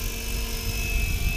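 A Mikado Logo 600SE RC helicopter rotor spins up with a steady, close whirring drone that holds throughout a brief moment.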